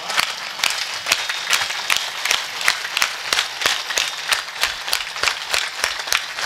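An audience at a Marathi kirtan claps in a steady, quick rhythm, sharp regular hand claps in unison over a hum of background sound, moderately loud and sustained.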